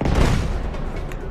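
A loud, booming gunshot in the video game Uncharted 3 with a heavy low-end thump, followed by a decaying rumble and a faint later crack.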